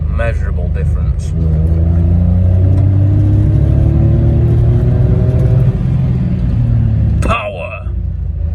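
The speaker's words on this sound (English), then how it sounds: "So let's go and see if it drives alright." A Citroen C1 running on vegetable cooking oil as engine oil pulls away, its small engine revving up through rising, close, loud tones with a gear change, then settling before a sharp knock near the end.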